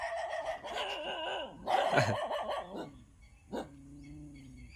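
A dog barks several times up close in short bursts, then gives a single yelp and a softer whine.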